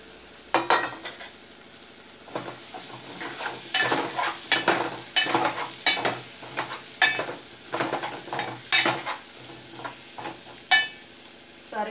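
Drumstick pieces are stirred into softened cooked tomatoes in a pan, making a series of close, uneven scraping and clattering strokes over a soft simmer.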